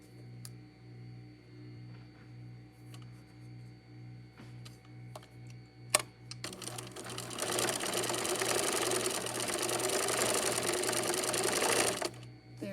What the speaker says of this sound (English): you're going to stitch up that seam